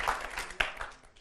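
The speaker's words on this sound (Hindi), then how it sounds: "विवेक जी ताली बजवाने में बहुत माहिर हैं और उनके ही बच्चे हैं उनके सेंटर के, इसलिए वो ताली बजाएंगे" A studio audience at a televised debate show claps in a short burst of applause, with a brighter cluster of claps midway before it fades out.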